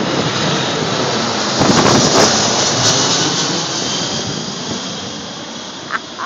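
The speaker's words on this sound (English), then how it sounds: "Oh, here comes another plane." Airplane passing overhead in Boston, a loud broadband jet roar that swells briefly and then slowly fades, heard outdoors alone.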